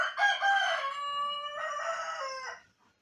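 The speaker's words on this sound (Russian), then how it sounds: "Вот так будет нас с утра петухи." In the morning in a village, a rooster crows once, close and clear, with a long drawn-out call that trails off into quiet.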